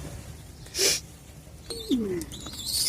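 A pigeon gives a soft, low coo close by, with a few brief chirps and a faint rustle around it.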